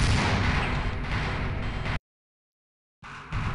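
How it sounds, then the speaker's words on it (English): A grenade blast in the Half-Life video game, a loud sustained burst of explosive rumble lasting about two seconds, then abrupt silence before more noise returns. "He reflected my own goddamn grenade."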